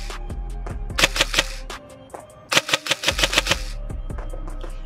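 A G&G Cobalt Kinetics M4 airsoft rifle firing, giving two rapid bursts of sharp, snappy mechanical clicks close to the microphone, separated by a short pause and followed by a few single shots.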